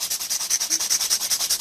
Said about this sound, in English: So turn the hand over upside down with the 150 grit file.